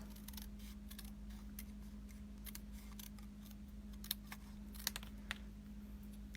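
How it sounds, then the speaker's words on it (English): Paper snips cut across cardstock for a stamped greeting card, several soft close snips and clicks spaced irregularly over a faint steady hum. "So I'm just going to use my paper snips and snip right across there."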